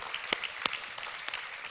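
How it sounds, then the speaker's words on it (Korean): During a Korean church worship service, a few sparse, faint claps ring out over a quiet room. "우리 하나님께 감사와 영광의 박수를 드리겠습니다"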